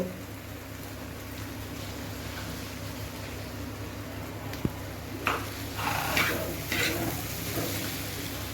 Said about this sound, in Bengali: এখন আমি এর মধ্যে ভাজা মশলাটা দিয়ে দিব।